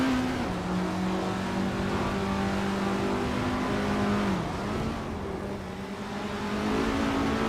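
Formula 1300 race cars in a racing video game roar continuously, engines rising and dipping in pitch through gear changes, loud and close with no talk.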